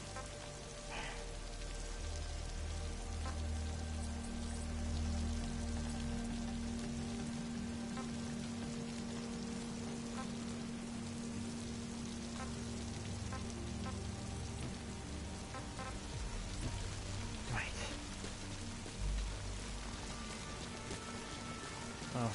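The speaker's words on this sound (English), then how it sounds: "since it's virtually always raining here now for some reason" Steady rain falling in the video game Metal Gear Survive, a constant dense patter on surfaces with occasional heavier drips, continuous and fairly loud throughout.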